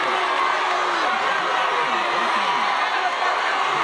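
Crowd cheering at a homecoming drum-off, a dense steady roar of voices heard at a distance with a voice talking over it.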